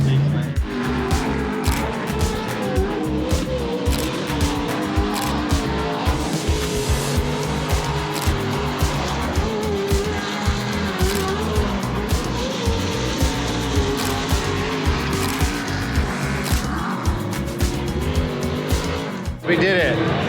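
Pro 4 off-road race trucks roaring around a track, a dense continuous engine drone with revving and tire noise close by, and someone talking over it.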